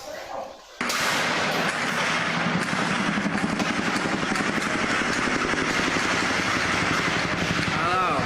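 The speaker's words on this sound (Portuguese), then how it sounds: "Traficantes atiram contra o helicóptero da polícia." Dense, continuous gunfire from traffickers shooting at a police helicopter over the Complexo do Alemão, a loud sustained roar of shots and rotor noise that bursts in after a brief quiet start.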